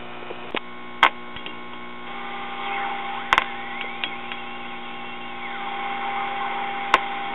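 A signal generator tone comes through an early-1940s Truetone battery-operated tube radio set to 1620 kC, a steady buzzing hum with sharp clicks and crackles scattered through it, close and even in level, with no talk.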